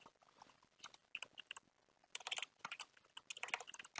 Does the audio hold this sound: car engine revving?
no